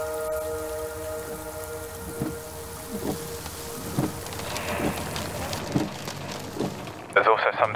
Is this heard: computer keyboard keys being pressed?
no